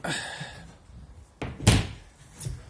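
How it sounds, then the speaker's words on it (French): A window on a boat is pulled shut, giving a single sharp thunk of a latch or frame near 1.7 seconds, preceded by a softer sliding knock, with quiet ambient background and no speech. "Je vais fermer la fenêtre."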